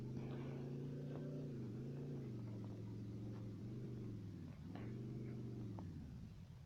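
A futuristic space car's engine in a sandbox video game: a steady, smooth humming drone that wavers gently up and down in pitch, heard alone without any voices.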